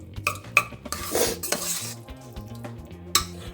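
Tamarind rice being mixed with sesame oil in a vessel. Sharp metallic scrapes and clinks of a spoon against the pot come at an irregular pace, with soft stirring swishes between them, close and fairly quiet.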